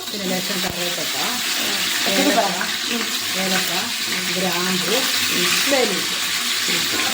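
A steady, continuous sizzle of fennel seeds frying in hot oil, with faint scraping and stirring noises over it.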